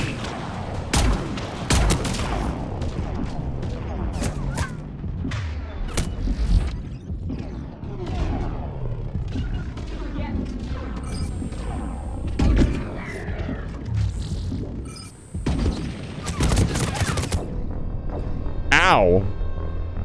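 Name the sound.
weapons firing in the video game Deadlock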